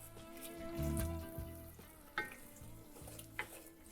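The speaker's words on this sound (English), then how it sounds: "As you can see, the oil is bubbling up." Oil sizzles steadily in a pan with a low background hum while making black bean sauce for Korean jajangmyeon, broken by a couple of sharp scraping clicks as the food is stirred.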